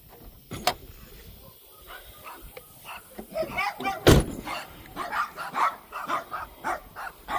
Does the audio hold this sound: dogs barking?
yes